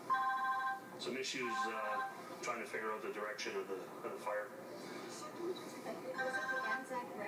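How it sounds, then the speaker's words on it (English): A telephone rings at a fire hall during an RCMP briefing on the Fort McMurray wildfire, sounding repeated tonal ringing bursts under someone speaking steadily throughout. "sorry about the phone there."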